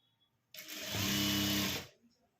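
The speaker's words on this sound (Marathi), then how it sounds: "तर आता आपण याला पण टीप मारून घेऊया" A sewing machine stitches a folded cloth strap for a roti cover in one quick, close burst of rapid needle chatter lasting just over a second, with a soft voice nearby.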